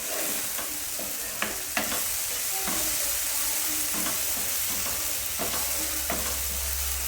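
Eggs fry in a pan for Kerala egg thoran, giving a steady, close sizzle broken by scattered spatula taps and scrapes, with no talking.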